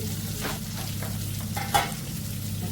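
Fish frying in a pan of oil, with a continuous close sizzle broken by a few brief stirring or scraping knocks and one sharper crackle.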